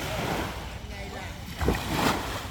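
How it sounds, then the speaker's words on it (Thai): Sea waves washing onto a beach beside a seaside restaurant in Ranong, a steady broadband wash with a swell near the end, mixed with wind. "ฟังเสียงคลื่น ฟังเสียงคลื่น"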